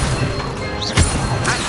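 Casting the Levioso spell in Hogwarts Legacy: a brief rising magical whistle leads into a single sharp, thudding crack, set against a dense, steady layer of game ambience, with no voices.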